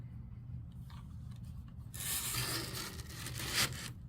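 Pole of a wet dry mop being twisted tight, a close scraping, ratcheting rub lasting about two seconds after a quiet start, ending in a brief louder click.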